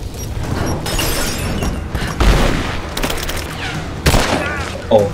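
Video game gunfire rattles in rapid bursts and heavier bangs during a shooter match, loud and close, with a player talking over the shots.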